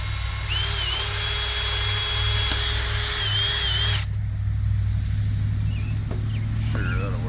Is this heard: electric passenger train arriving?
no